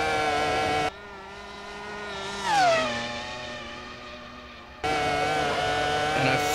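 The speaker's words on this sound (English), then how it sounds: "And here it is, coming right up as we're gonna try and accelerate as much as we can" A Dacia Logan fitted with a V10 engine revs hard through second into third gear, its steady high-pitched drone dipping sharply at a gear change, then surging back loud and close.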